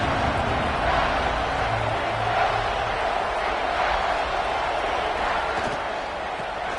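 Stadium crowd roaring at a football game as the home defense faces a red zone stand, a steady dense wall of noise filling the whole stretch without letup.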